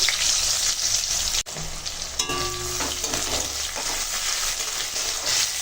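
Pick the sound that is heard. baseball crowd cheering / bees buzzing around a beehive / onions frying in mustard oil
onions frying in mustard oil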